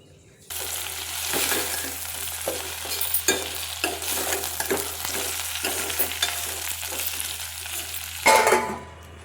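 Chopped okra frying in oil in a pan for a tangy okra stew, a loud close sizzle that starts abruptly and keeps going with repeated stirring scrapes and a steady low hum, then a louder burst near the end.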